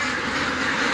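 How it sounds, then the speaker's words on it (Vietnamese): A dense crowd of ducks on a large duck farm makes a constant loud clamor of overlapping quacks with no pauses. "Trại nuôi hàng vạn vịt này."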